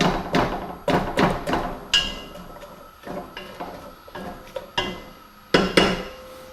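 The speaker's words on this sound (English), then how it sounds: "let me stir this up here. See, I'm sort of striking the pieces to break them up into their constituent parts" Wooden utensil stirring and striking chunks of grass-fed pork stew in a pan, giving repeated knocks and scrapes in irregular bursts, close and fairly loud, with no talk.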